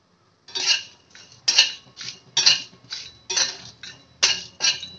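Whole spices tossed dry in a hot pan over low gas, rattling and clinking against the metal in a steady run of about nine short scraping bursts, close and alone with no voices.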